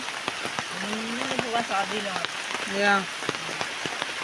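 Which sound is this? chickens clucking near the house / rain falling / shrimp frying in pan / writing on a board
rain falling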